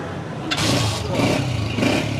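A Honda Deluxe 125 motorcycle engine idling nearby, then revving up in a couple of short bursts, loud and close.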